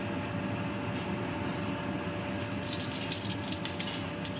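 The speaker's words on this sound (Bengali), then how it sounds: "এবার আমি তেলের মধ্যে একটু 5 ফোড়ন দিই" Panch phoron spices dropped into hot oil for a Bengali neem jhol give a steady, close sizzle with crackling pops growing busier toward the end.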